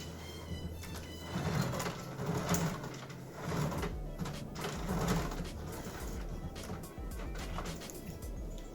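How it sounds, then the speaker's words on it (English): An HP Photosmart Premium C309g All-In-One inkjet printer realigns after a cartridge change, with soft rhythmic mechanical whirring and clicking cycling under a faint steady hum. "it realizes that things change, and it's realigning stuff, getting stuff ready again"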